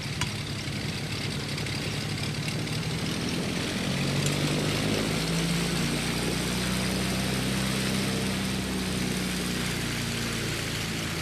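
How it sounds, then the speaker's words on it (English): A TBM single-engine turboprop taxiing in a flight simulator game, giving a continuous loud propeller drone and engine hum with slight pitch shifts throughout and no talk. "I'm not just hearing the prop, I'm hearing it cutting through the wind"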